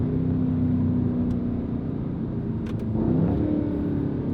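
Deep engine rumble of a 2019 Mercedes-AMG C63 S Coupe facelift with its seven-speed dual-clutch gearbox, droning steadily inside the cabin, then a pitch shift as the gearbox downshifts near the end.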